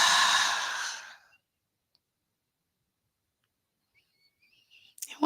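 A long, deep exhale during meditation sounds close and breathy, tapering to silence within a second, followed by faint scattered ticks and a small stir at the very end.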